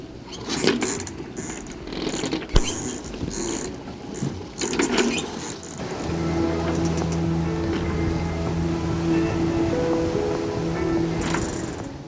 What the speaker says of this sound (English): It looks like there is current against waves.